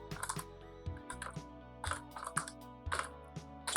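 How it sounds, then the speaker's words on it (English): Computer keyboard keys clatter in uneven bursts while entering Excel VBA code, with a steady musical bed running beneath the close, crisp clicks. "I type in R underscore and press control space"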